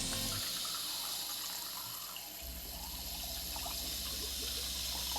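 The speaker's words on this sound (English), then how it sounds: "Let's get some water going, fill that up." Water runs steadily from a tap into a campervan sink, a continuous close splashing flow that fills the basin, with no talking.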